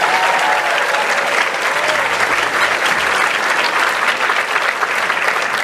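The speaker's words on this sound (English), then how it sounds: "let's all give them another round of applause" Loud, dense applause from a crowd congratulating the teams after a youth judicial final trial, a continuous full roar of clapping throughout, with a faint voice briefly heard early on.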